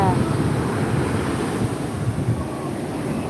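Big ocean waves surge and wash onto a beach, a rolling low roar buffeted by strong wind noise across the microphone, close and fairly loud throughout.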